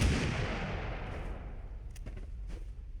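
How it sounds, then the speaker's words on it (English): Gunfire in the video game Totally Accurate Battlegrounds: a heavy, booming shot that decays into rumbling echoes, followed by a few sharper, quieter cracks. "we're actively shooting at that second person"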